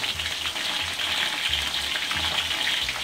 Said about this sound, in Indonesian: Tinggal kita menggoreng.